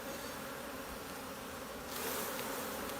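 A dense, steady hum of many honeybees buzzing close by around an open hive as frames are handled, swelling a little louder partway through, with no voices.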